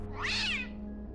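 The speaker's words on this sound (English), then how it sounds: "eventually the cat speaks to Lacey" Single clear cat meow from a browser video game, a drawn-out rising and falling cry over a faint steady electronic hum.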